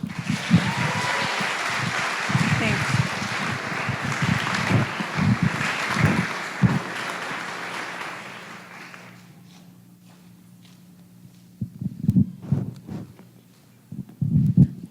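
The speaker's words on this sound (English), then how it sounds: "let's join in a raucous round of applause for Rachel" A crowd at a Metro Parks Tacoma all-staff gathering breaks into raucous applause for a colleague, full clapping with scattered thumps for about nine seconds before fading away, followed by low rumbles and a few knocks.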